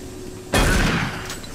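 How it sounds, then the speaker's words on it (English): A single shotgun blast in the video game Doom 3 cracks out loud and close, a sharp burst that decays over a moment against a steady background hum. "Yeah, he's gonna get shotgunned."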